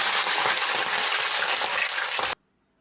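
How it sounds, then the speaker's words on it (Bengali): Vegetables sizzling and crackling in hot oil in a wok, a loud, steady hiss that cuts off abruptly near the end into near silence. "কড়াইতে তেল দিয়ে সব এক এক করে ভেজে নেব আলাদা আলাদা করে"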